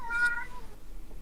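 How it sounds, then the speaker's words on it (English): A domestic cat gives a single clear meow nearby, rising then trailing off into quiet room tone, with no one speaking. "that's my cat."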